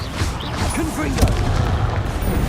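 Blasting spell explosions in Hogwarts Legacy, booming impacts with a sharp burst near the middle, layered under a voice speaking throughout.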